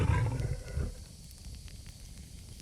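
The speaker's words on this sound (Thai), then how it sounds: "ฟังดูคล้ายเสียงเสือนะ" A tiger roars loudly and close for under a second at the start, then fades into quiet ambient noise of a farm at night.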